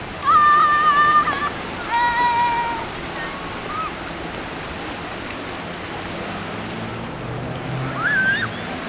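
Sea waves wash onto the beach at Brighton with a continuous rushing surf under wind, while high voices call out over the water.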